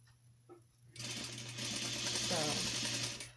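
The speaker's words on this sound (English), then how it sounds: "So all I'm doing is actually sewing kind of around it." A sewing machine stitches around the train of a wedding dress, starting after a quiet moment and running steadily and fairly loud for over two seconds, with a low background hum.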